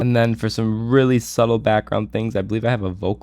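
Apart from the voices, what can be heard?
No everyday noise stands out behind the speech.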